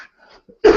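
A person coughs and clears their throat during a lecture on the survival of the classical tradition, with faint murmurs before one loud, close, harsh cough near the end.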